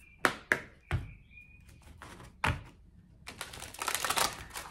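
Three cards are drawn and handled, giving sharp snaps and taps close by that are spaced irregularly, followed by a burst of softer rustling and sliding, with no talking.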